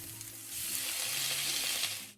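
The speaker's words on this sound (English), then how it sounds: "start stir-frying the onions, chilli, garlic and ginger with a little oil until they start browning" Onions, chilli, garlic and ginger stir-fry in a little oil in a pan, giving a loud, steady broadband sizzle that swells after a brief quieter start and runs on unbroken, with no voices.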